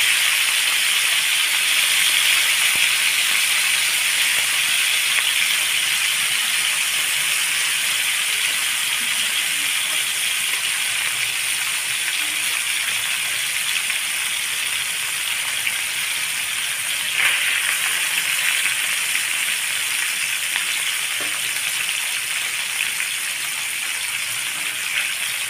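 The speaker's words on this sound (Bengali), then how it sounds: "মাছগুলো দিয়ে আমি উল্টিয়ে পাল্টিয়ে একটু সময় নিয়ে লাল লাল করে ভেজে নিব" Mirka fish frying in a pan produces a loud, continuous hiss and spatter that holds steady throughout, with no voices.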